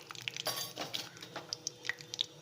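Mustard seeds crackle and pop in hot sesame oil in a kadai, giving a string of quick, light, scattered clinks and spits. The pops are close and mostly faint, and some sharper ones stand out.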